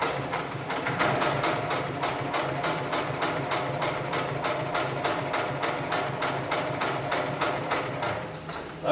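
An industrial sewing machine stitches harness material for fall-arrest harnesses and lifting slings, producing a fast, steady mechanical thumping rhythm with a constant motor hum, close and loud, alone without talk.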